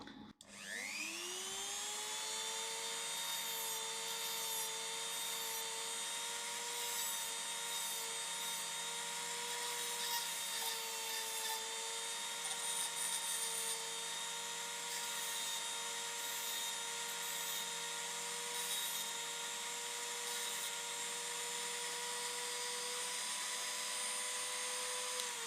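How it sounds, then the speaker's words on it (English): Steady high-pitched whine of a power grinder taking burrs off the edges of a metal pick, spinning up at the start and holding a continuous shrill tone throughout, close and alone with no talk. "so I do need to take some of the burring off. That'll be a little bit of grinding"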